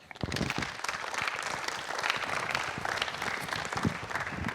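A crowd at a chamber of commerce agriculture event in Marshall claps steadily and warmly, a dense burst of applause from an audience nearby, with no voices over it.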